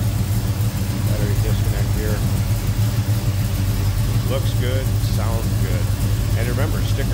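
The engine of a 1970 Oldsmobile Cutlass S runs steadily nearby with a low, continuous rumble, and the pitch shifts slightly. Someone talks briefly over it.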